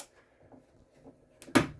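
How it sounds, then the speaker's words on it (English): Sliding pocket door held by a magnet in a 2019 Grand Design Reflection 367BHS travel trailer bathroom, a few soft scrapes and then one sharp close thud near the end, nearby and with no talking. "this does come with a sliding door, pocket door here. Operates on a magnet."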